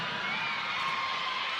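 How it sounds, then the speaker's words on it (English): A large indoor crowd at a PVL volleyball match venue in Montalban cheers and shouts in a continuous loud roar, dense and steady throughout, heard from within the stands. "Wala pang action pero may cheering na."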